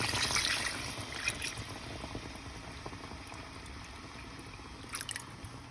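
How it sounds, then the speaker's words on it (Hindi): Water poured into a pot of beef nihari, a steady liquid rush and bubbling that holds at a fairly even level for several seconds with no talk. "मेरे पास 8 ग्लास पानी है जो मैं इस वक्त निहारी में शामिल कर रही हूँ"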